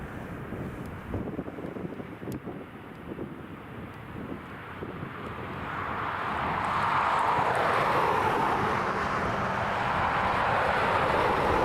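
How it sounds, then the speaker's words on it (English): Air France Airbus A320 coming in to land at Dublin Airport from Charles de Gaulle, a distant engine rumble that swells into a louder broadband roar in the second half, with wind buffeting the microphone. "we've got this Air France A320 coming in from Charles de Gaulle"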